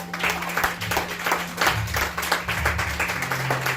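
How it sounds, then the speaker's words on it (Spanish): A church congregation applauds together, a steady wash of many hands clapping that fills the room at moderate loudness, with a low sustained tone running beneath it. "Denle un aplauso al Señor."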